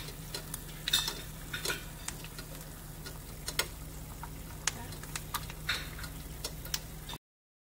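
An egg deep frying in a pan of hot oil gives a steady, quiet sizzle scattered with small crackles and ticks, then cuts off abruptly.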